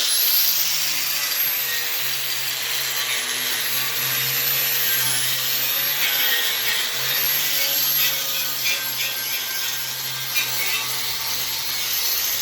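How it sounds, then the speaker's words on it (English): Grinding wheel smoothing welds on a fire pit grill built from scrap metal, a loud steady whine with a sustained motor drone that runs unbroken for the whole stretch, close up, with no speech. "I'm just gonna get my wheel here and smooth it out as best as possible"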